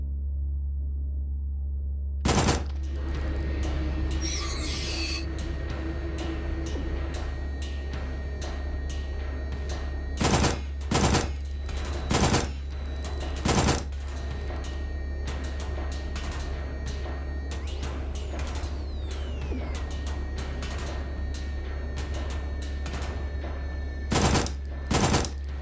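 Gunfire in the video game Signalis: about eight sharp, loud shots spaced unevenly over a steady low mechanical hum and faint game ambience, no voices.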